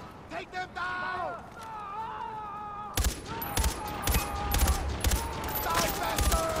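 Machine gun fire in Far Cry 4 breaks out in rapid, loud bursts halfway through, after a quieter opening where a voice talks over softer game sounds.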